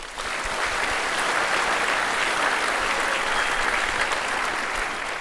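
Loud, sustained applause from an audience at a Wellington civic event as a speaker is introduced, a dense, even roar of many hands clapping throughout.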